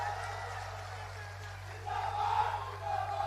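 A crowd at a political rally in Amethi cheers and chants in a sustained roar. A steady low hum sits beneath it, and the noise swells louder partway through.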